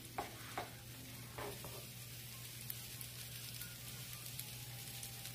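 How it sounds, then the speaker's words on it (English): Quiet, steady sizzling of zucchini pancakes frying in a pan, with a few soft clinks of a utensil early on and a low hum underneath. "See the sizzle?"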